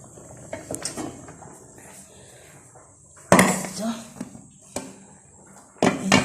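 Hot tempering is poured into a pot of dal, giving a sudden loud sizzling burst that fades, amid scattered clinks and knocks of utensils against the pot, with voices faintly in the background.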